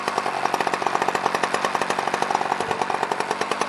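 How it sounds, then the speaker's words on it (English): A Husqvarna chainsaw mounted on an Alaskan mill sits idling while milling lodgepole pine, a loud, close, steady pulsing putter with fast regular beats and no talk. "we're just letting the husky cool down a little bit, just sitting there idle."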